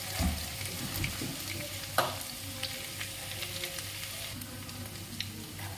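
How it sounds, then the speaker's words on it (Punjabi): Stuffed bitter gourds (karela) fry in a pan until browned, a close crackling sizzle with scraping stirs and a sharp clack near the middle, no talk. "ਇਹਨਾਂ ਨੂੰ ਭੁੰਨ ਬਿਲਕੁਲ ਲਾਲ ਕਰ ਲਾਂਗੇ"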